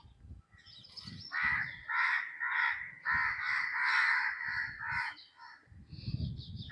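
Several crows cawing outside a temple, a run of harsh, repeated caws close by and fairly clear, with low background noise and muffled sounds between calls.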